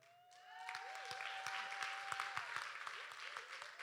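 Applause for Joanne Camille rises from a crowd, a sustained patter of many hands clapping at moderate volume for several seconds, with a voice carrying over it and a few sharper claps standing out.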